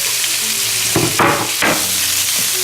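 Beef for pepper steak lands in a hot pan, sizzling loudly and continuously with a few thumps and scrapes as the meat settles.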